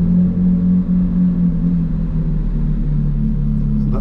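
McLaren Artura engine idling after start-up, a steady close low rumble with a constant droning hum and no voices.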